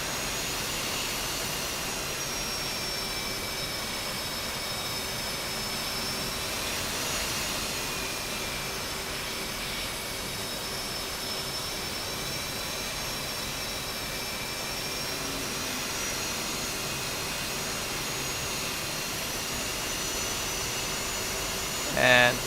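An F/A-18 jet engine in the flight simulator DCS hums steadily while the aircraft taxis, a continuous whining roar with a smooth even drone and little change throughout.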